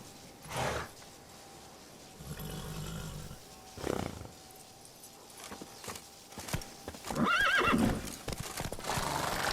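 Roach, the horse in The Witcher 3, snorts and neighs in loud bursts between stretches of rhythmic hoofbeats, the calls rising clear above the thudding gallop.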